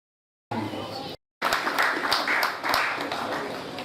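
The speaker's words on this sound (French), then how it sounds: "je vous demande s'il vous plaît de bien vouloir applaudir" Mourners applauding at a funeral for an elderly matriarch, a dense wash of many hands clapping at moderate distance, broken by a short gap and then resuming steadily to the end.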